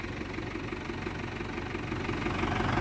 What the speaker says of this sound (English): That's maxing that tractor out.